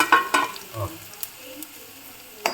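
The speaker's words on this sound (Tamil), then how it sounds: "எல்லாம் ஒன்றா போட்டு அதை வறுத்துடும்" Chana dal, dried red chillies and curry leaves roasting together in a pan, with a soft crackle and a few sharp scrape-and-stir knocks near and far apart, and no talking.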